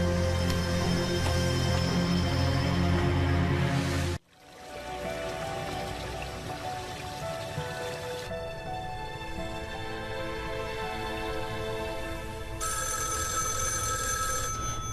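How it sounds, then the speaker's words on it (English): A telephone bell rings repeatedly in a home, steady and loud, with a background music score continuing under it and no talking. "Miss Gray, the phone"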